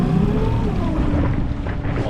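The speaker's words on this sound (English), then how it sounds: "Upgraded to the 10 horsepower Honda engine. Actually, it's quite quiet and smooth" A Honda 10 horsepower BF10 outboard engine runs steadily on a small boat, a close, continuous hum with wind buffeting the microphone and no voices.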